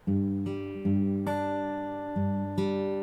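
Plucked guitar notes ring out in a steady picking pattern, with several fresh attacks layered over sustained tones, clear and close with no voices.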